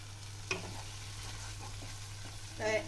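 A spice paste mixed with cashew paste frying in a pan for doi katla, a soft steady sizzle with a few scraping stirs, one near the start and a louder burst near the end, no talking.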